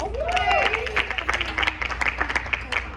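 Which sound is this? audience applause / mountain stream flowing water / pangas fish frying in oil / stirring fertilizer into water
audience applause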